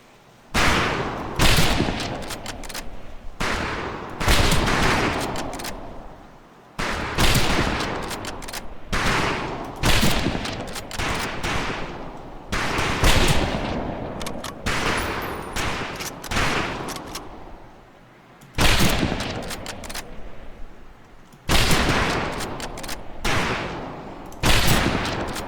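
Rifle volleys crack out on a firing range in Medal of Honor: Pacific Assault, loud bursts of near-simultaneous shots repeating every couple of seconds with short gaps between, no talk over them.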